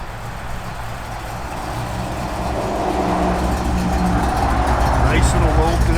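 A 1963 Chevrolet Impala V8 idles with a lopey cam, a low, steady rumble that swells slightly louder over a few seconds, with faint background voices nearby.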